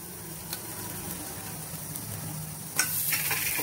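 Grated coconut dry-roasting in a pan for hotel-style bisi bele bath, giving a steady low crackle with faint stirring scrapes and a sharper burst of scraping near the end, no voices.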